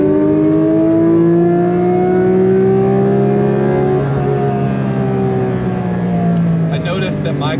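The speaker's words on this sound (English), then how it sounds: "You hear more induction noise having the like air intakes next to you" Porsche 992 GT3 RS flat-six at full throttle, intakes beside the cabin, gives a loud, sustained induction roar whose harmonics climb and dip smoothly over several seconds, heard continuously from inside the car.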